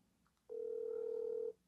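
A telephone gives one steady, clear tone of about a second during a call to a prize winner at a giveaway announcement, heard alone against quiet background.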